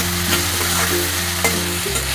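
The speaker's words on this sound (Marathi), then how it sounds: "टोमॅटो पण लाल होईपर्यंत, नरम होईपर्यंत जरा परतून घेऊया व्यवस्थित" Onion and tomato sauté in a pan with a loud, close, steady sizzle and occasional stirring scrapes, while a low hum runs underneath.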